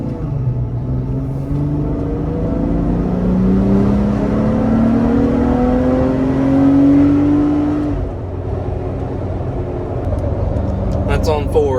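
A Jeep Wrangler JKU fitted with an iDrive throttle controller accelerates hard, its engine note rising and sweeping upward in a sustained, loud rumble that swells mid-clip and then eases off.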